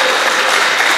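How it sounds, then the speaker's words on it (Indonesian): Dense, loud applause from a gathered group for Kebumen, steady and continuous throughout with no voices on top. "Tepuk tangan untuk Kebumen"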